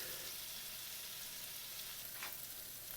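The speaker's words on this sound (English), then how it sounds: "carefully split them apart along the knife cuts you have with a spatula" Sweet potato home fries sizzle in a pan, a soft, steady, fairly quiet frying hiss with one brief scrape of a spatula prying them apart.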